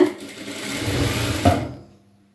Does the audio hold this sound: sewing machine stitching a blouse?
yes